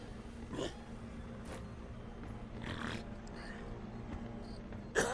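A person burping during a livestream: a few faint, low, throaty belches spaced a couple of seconds apart over quiet background hum, followed by a brief louder noise at the very end.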